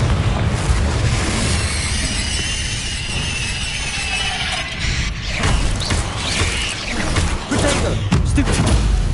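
Confringo blasting curses and Incendio fire spells burst repeatedly amid spider fights in a Harry Potter video game, dense rumbling explosions layered with combat noise and occasional spoken incantations.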